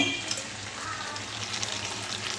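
Ghee sizzles and fries in a pan of cooking jackfruit kofta curry, a dense, bright, crackling hiss that stays steady and close throughout with faint stirring.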